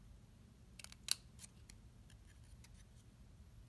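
Scissors make several quick, close snips through paper for a handmade Christmas card. The cuts come as a short cluster, one crisp and loud, then a few fainter clips in a quiet room.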